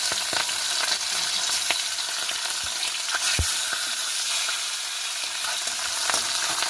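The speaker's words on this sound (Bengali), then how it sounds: "এখন আমি আগে থেকে নুন হলুদ মাখিয়ে রাখা মাছটি কড়াইয়ে দিয়ে দেব" Fish pieces coated in salt and turmeric fry in very hot oil in a kadai, giving a dense, continuous crackling sizzle with sharp pops and spits, close and steady throughout with no voices.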